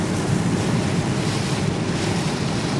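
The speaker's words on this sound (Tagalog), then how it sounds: "Grabe po yung lakas ng ulan." Steady, dense roar of heavy typhoon rain mixed with gusting wind on a road in Calamba, Laguna, loud and continuous throughout with no voices.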